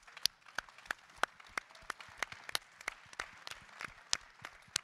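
Scattered hand claps from an audience at a political party congress, sparse and uneven, with sharp individual smacks rather than a full ovation.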